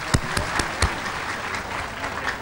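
Audience applause for donors at a charity broadcast in Ubon Ratchathani, Thailand, a soft, fairly distant patter of clapping with a few sharper individual claps standing out near the start.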